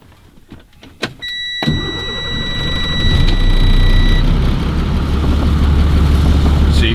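A truck engine starts up at close range after a few clicks and a brief electric whine, then builds into a loud, steady rumble that holds to the end.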